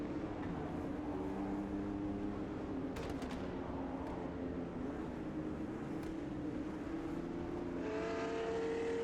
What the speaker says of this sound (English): As soon as there's any reverb on the exhaust note or engine note of the car, the effect is a bit odd.